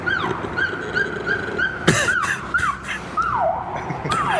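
A dog howls in a rising and falling wail that mimics an emergency siren, repeating in wavering cycles close by, with a brief sharp burst of noise partway through.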